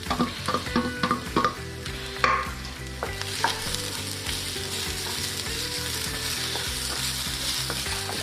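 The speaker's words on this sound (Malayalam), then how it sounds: "ഇതിൽ 1 സവാള അരിഞ്ഞ് വെച്ചത് ഇതിലേക്ക് ഇടുകയാണ്." Chopped onion frying in oil with browned grated coconut for spicy beef kondattam, a steady close sizzle broken by repeated scraping and stirring strokes of a spoon in the pan, with no talking.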